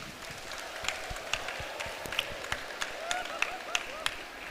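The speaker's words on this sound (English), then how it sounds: "give your teachers a big round of applause" An audience at a graduation commencement applauds the teachers, with steady and fairly faint clapping that carries sharp individual claps.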